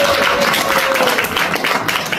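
Dense, loud applause from a crowd of party members at a meeting in Pohang, continuous close clapping throughout with no talking.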